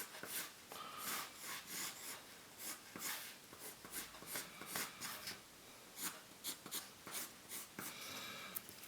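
A pencil scratches an oval onto paper in quick, soft strokes, close but quiet, the scratching coming in short irregular bursts.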